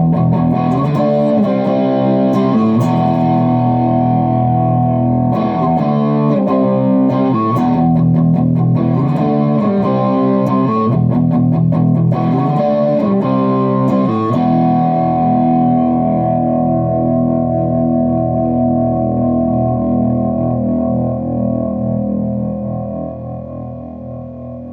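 Gibson Les Paul electric guitar with phase reversal off, played with heavy distortion: sustained, ringing chords and riffs with rhythmic strummed accents, then a long decaying chord that fades toward the end.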